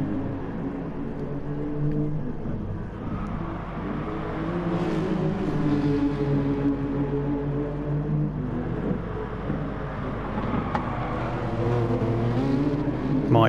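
Touring cars race over the brow of the hill and down through the corkscrew at Laguna Seca in a racing video game, engines droning and revving steadily with shifting pitch as the cars pass, continuous and moderately loud.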